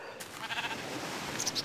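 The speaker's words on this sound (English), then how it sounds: "Sheep!" Sheep bleating in the Minecraft video game, a short, fairly faint bleat over soft background game ambience.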